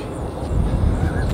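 Aircraft engines drone overhead as two planes pass above a golf course, a steady low rumble that swells slightly toward the end, with faint voices in the background.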